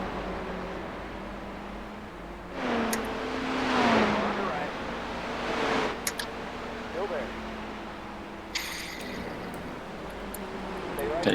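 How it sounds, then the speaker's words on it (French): A Porsche race car laps the track during a six-hour endurance race, its engine note swelling and fading as it accelerates and brakes, fairly faint and muffled, with occasional clicks and rattles. "Et puis là, on peut freiner tard avec la Porsche."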